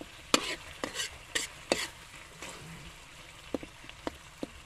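Tomato, onion and corned beef cooking with garlic in a pan, with quiet sizzling and a series of sharp spatula taps and scrapes at irregular intervals, fairly faint and close.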